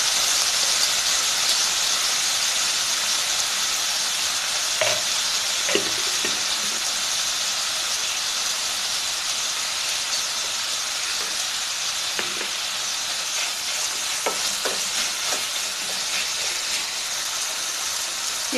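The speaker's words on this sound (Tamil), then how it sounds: "இப்போ இந்த அறுத்து வச்ச தக்காளியும் வெங்காயத்தையும் ஆட் பண்ணிக்கலாம். தக்காளி உடையிற வரைக்கும் நல்லா வணங்கி வச்சுங்க." Chopped tomatoes and onions sauté in a pan with fennel seeds for kadala curry, a constant close sizzle broken by several short scraping stirs, with no talking.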